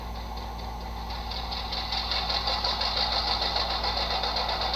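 An HO scale model locomotive running on a speaker sound decoder gives a steady, even engine drone with a fine rapid chatter. It swells a little louder partway through and carries on without any voices.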